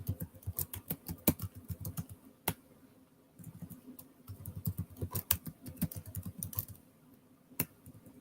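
Fingers type quickly on a computer keyboard in close, crisp bursts of clicks, with a brief quiet pause between two runs of typing and a final single keystroke.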